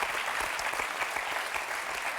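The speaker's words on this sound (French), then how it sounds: "on peut les applaudir" Studio audience applause on a French TV game show, a brief, even burst of many hands clapping at moderate level with no voices over it.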